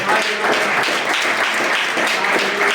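A church congregation applauding and cheering during a French-language Easter sermon, loud sustained clapping mixed with voices crying out, close and continuous throughout.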